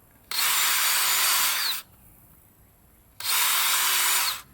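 A power drill drives screws into a wooden roof joist in two loud, sustained whirring bursts of about a second and a half each, separated by a quiet pause, close up.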